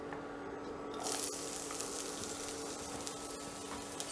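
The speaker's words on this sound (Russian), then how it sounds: "Обжариваем кабачки." Steady hissing sizzle of zucchini frying in oil in a hot pan, growing louder after a second, with faint crackles, close and continuous.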